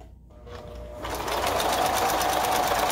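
A Singer 9805c sewing machine stitches a strip of test fabric, starting with a brief quiet lead-in before the motor's steady, fast needle rattle rises and runs continuously and loud up close.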